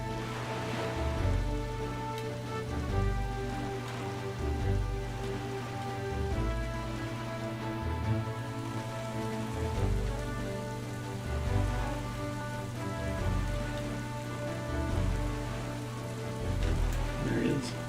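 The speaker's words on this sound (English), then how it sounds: "And now it's raining." Rain falling in the Wind Waker HD video game, a steady, dense patter that stays at an even level throughout, laid over a looping musical background.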